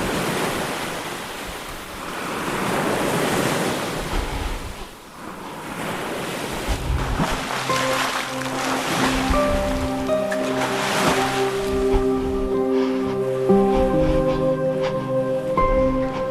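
Sea waves surge and wash over in broad rushing swells mixed with wind, first rough and noisy, then layered under sustained droning tones that build toward the end.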